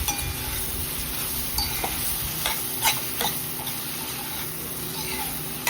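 Sautéed okra is stirred into an onion-tomato gravy for a yogurt-based bhindi masala, with a steady soft sizzle and a few scraping clicks of the spoon against the pan throughout, no voices.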